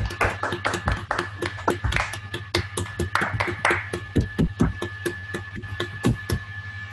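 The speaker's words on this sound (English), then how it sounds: "give a round of applause to Csaba, please." Scattered clapping from a small group, sharp uneven claps overlapping for several seconds with a steady hum underneath.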